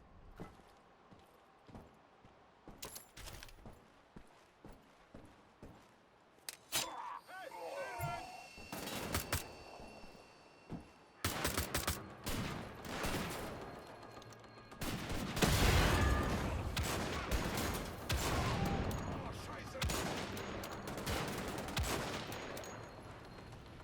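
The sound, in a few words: gunfire in video game Wolfenstein The Old Blood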